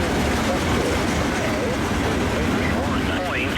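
CN freight train L571 crossing the old Illinois Central Cedar River Bridge in snow at Cedar Falls, a dense steady rumble of rolling wheels with faint squeal near the end, continuous and loud throughout.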